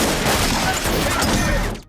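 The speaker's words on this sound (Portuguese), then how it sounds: "A polícia atira nele." Police open fire in a Blade film scene, a loud, dense burst of gunshots crashing together for nearly two seconds before cutting off abruptly.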